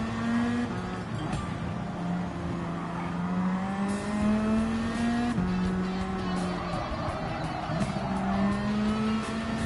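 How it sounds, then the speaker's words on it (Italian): Racing in Gran Turismo 7, the Castrol Toyota Supra revs hard through a string of upshifts with a continuous loud engine note, broken by brief tire squeals through corners and no voices. "Prima volta che guido la Supra."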